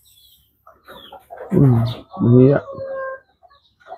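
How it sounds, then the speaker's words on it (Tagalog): A chicken perched in a moringa tree gives two loud, close clucking calls in quick succession, with softer rustles and faint sounds around them and a brief spoken word. "May manok naman umakyat, no? Diyan sa malunggay."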